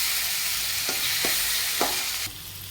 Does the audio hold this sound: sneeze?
no